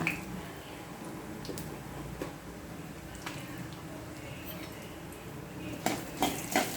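Ginger and garlic stirred into hot oil in a pan, a soft continuous sizzle with scattered spoon-on-pan clinks, a cluster of sharper knocks toward the end, close and fairly quiet.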